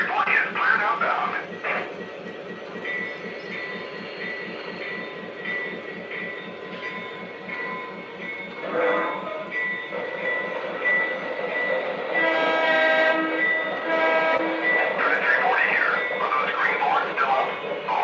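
A Lionel model train pulls out on a home layout, a steady rolling rumble with horn blasts sounding over it, continuous and fairly close, with some talk mixed in.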